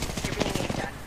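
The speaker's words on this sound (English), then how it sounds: "shots." Rapid gunfire from the Apex Legends video game, a dense burst of repeated shots running through the whole short moment at steady loudness, with voices mixed faintly underneath.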